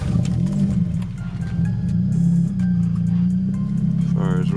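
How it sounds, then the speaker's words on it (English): A Honda Accord with an F20B engine, stock muffler fitted, idles steadily after a cold start, a constant low drone with a faint rise near the end. "let's see about this cold start here"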